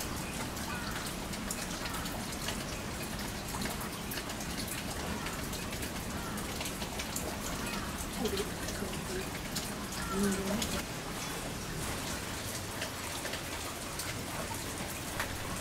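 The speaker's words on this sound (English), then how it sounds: "The gorillas are eating under a roof to protect them from the rain." Rain falls steadily on a roof over a gorilla enclosure, a dense, even patter that holds without pause throughout, with a faint bird call now and then.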